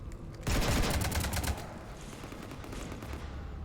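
Sustained bursts of gunfire during a siege in Mass Effect 3 Legendary Edition, a loud rapid volley for about a second, then quieter continuing shots and combat noise.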